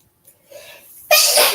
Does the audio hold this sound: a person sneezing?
yes